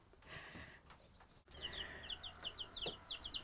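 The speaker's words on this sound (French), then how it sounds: "Ben là il y a plein de coqs" Chickens and roosters on a French farm raising about 300 laying hens cluck and chirp repeatedly at close range, a rhythmic series of bright calls over rustling and low background noise, with no talk.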